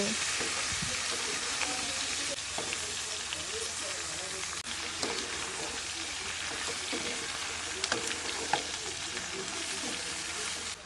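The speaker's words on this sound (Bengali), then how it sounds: "একটু ভালো করে ভেজে নেব" Potato and cauliflower curry fries steadily in a pan, a continuous broadband sizzle with light stirring clicks, fairly close and even in level throughout.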